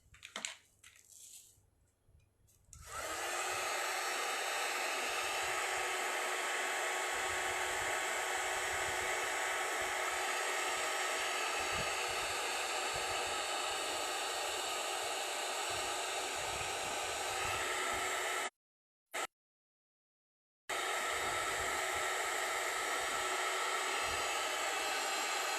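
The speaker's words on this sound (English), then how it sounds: "Or let me just put some heat gun." A heat gun dries a thick coat of texture paste on a mixed media canvas, its loud steady whooshing hum switching on after a few seconds of faint handling, briefly cutting out twice near the end before resuming.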